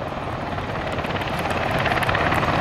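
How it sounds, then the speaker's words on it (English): A UH-60 Black Hawk helicopter flies close by, its loud steady rotor chop and turbine roar filling the whole stretch and swelling slightly louder toward the end, with no voices. "The HH-60 Army Air Medical Evacuation, known as Dustoff, utilizes the UH-60 Black Hawk helicopter"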